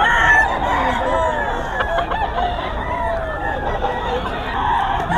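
A bull stag gamefowl rooster at a poultry market in Bocaue crows amid a noisy backdrop of other roosters and clucking fowl, with voices murmuring underneath.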